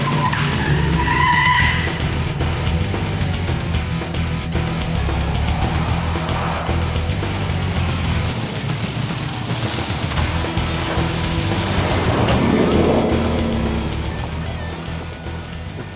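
A supercharged Ford F-150 pickup with a new exhaust drives hard, its engine roaring continuously close by with tyre noise and a swelling surge of revs toward the end.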